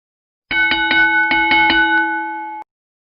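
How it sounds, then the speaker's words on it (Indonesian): A school bell ringing for dismissal, a rapid series of bright metallic strikes lasting about two seconds, then a sustained ringing tone that cuts off abruptly, loud and close with no voices. "Setelah bel pulang berbunyi, aku pun pergi pulang ke rumah."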